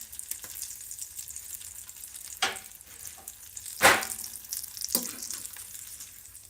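Bean tacos frying in hot oil give a steady, close sizzle, broken by a few brief sharper crackles and spatters; no one speaks.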